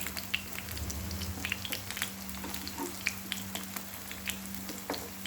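Aloo tikki potato patties shallow frying in a pan, a steady close sizzle with scattered crackles and pops, a low hum underneath, no talking.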